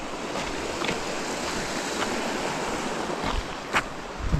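A creek runs through a cool wooded spot on the Grizzly Den and Raven Lake loop trail, giving a steady, dense broadband rush of flowing water that stays close and even throughout, with a few faint knocks and no talking.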